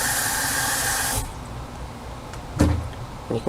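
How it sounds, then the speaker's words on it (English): Water is rinsed and swirled through sprouting seeds in a jar, a steady close hiss of pouring water for just over a second, then quieter handling with a couple of brief knocks and sloshes. "So once you have them out in here, you're just going to rinse them."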